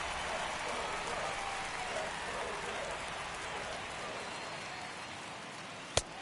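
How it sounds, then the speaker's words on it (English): Steady, moderate rain falls on a baseball ballpark at Crosley Field, an even dense hiss of drops throughout with one sharp knock near the end. "A moderate, steady rain, but they think they're going to get the game in."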